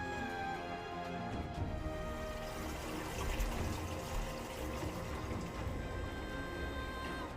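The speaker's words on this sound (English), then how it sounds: "I then fill up the fish tank with fresh water" Fresh water pours from a bottle into a fish tank, a steady close splashing and trickling stream that continues throughout.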